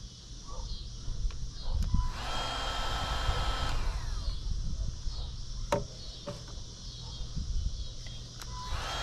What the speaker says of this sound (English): go get you a good heat gun. This Milwaukee one, oh man, it's a game changer